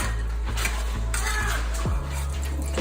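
A metal spatula scraping and tapping against a pan while cooking egg for a St. Louis-style St. Paul sandwich, several short rhythmic scrapes close by with faint sizzling behind.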